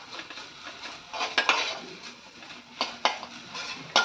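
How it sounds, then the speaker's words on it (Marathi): Ginger garlic paste and onion are sautéed in a pan for a quick prawn rice dish, with irregular bursts of metal spoon scraping and clinking against the pan over a soft sizzle. "त्याच्यामध्ये मी आलं लसूण पेस्ट परतते."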